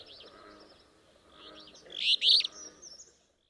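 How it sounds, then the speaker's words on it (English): An alder flycatcher sings a slurred three-syllable phrase, rising in clear bursts toward the end, alone and fairly close over a quiet background. "The alder flycatcher's is a slurry three syllables, dreebio"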